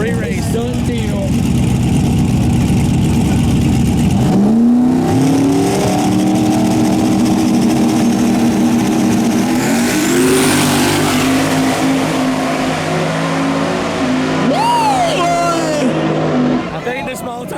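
Small-tire race cars roar around a dirt track with no jumps during a nighttime event, engines revving hard and continuously, pitch rising and falling as cars accelerate and pass, with occasional tire squeal and a loud, dense wash of motor noise throughout.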